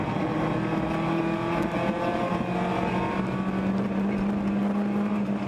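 A race car in an endurance series event, a BMW 325 on a road course, shifts back into gear as it rejoins the track. A steady engine drone runs throughout with a rising tonal whine, heard at a moderate distance.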